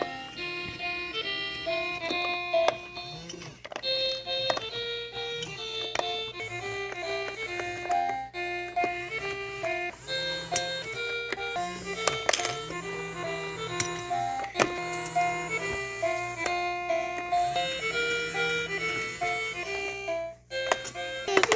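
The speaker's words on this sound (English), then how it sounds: "once you put a coin in, it will like go through the machine" Kids' mini claw machine running a coin-operated game, its electronic jingle playing continuously for about twenty seconds with chirpy tones and faint mechanical whirring underneath.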